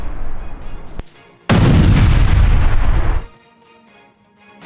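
A Tesla Cybertruck explodes outside Trump Tower in Las Vegas: a single loud, sharp blast bursts out after a brief crack, roaring for about two seconds before dying away into quiet.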